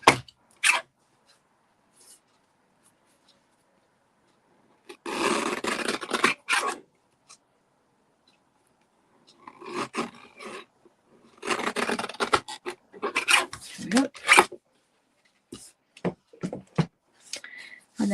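Scissors trim an overhanging edge in several bursts of crisp, close rasping cuts separated by quiet pauses, with a few brief clicks.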